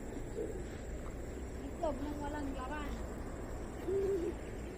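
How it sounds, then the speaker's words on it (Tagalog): Pigeons coo and squabble in soft, low, throaty calls that come in short bursts against a quiet background, with a voice murmuring now and then. "Sino nagpapatukan ng kalapate?"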